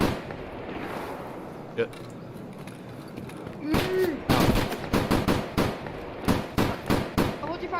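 Rapid gunfire bursts in the video game Escape from Tarkov, loud and close, a volley of sharp shots around the middle followed by repeated separate bursts, with a voice cursing briefly.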